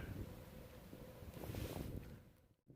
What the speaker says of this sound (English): I know the wind's blowing